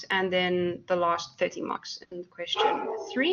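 Dogs bark in a home during a thunderstorm, with yips and barks scattered under steady close speech.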